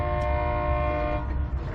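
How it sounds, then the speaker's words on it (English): A train horn sounds as a sustained, loud, steady blast with rumbling rail noise beneath it at a rail yard on a cold foggy morning. "Oh, there's a horn."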